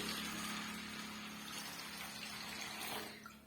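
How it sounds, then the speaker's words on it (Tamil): Water pours steadily onto washed rice flakes (aval) to soak them for a crispy cabbage-and-lentil aval vada, a continuous close gushing that fades slightly near the end. "இப்போ இது ஊற வைக்கிறதுக்காக தண்ணி சேர்த்துக்கலாம்"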